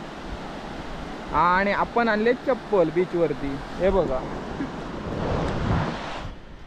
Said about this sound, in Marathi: मस्तपैकी लाटा वगैरे येत आहेत।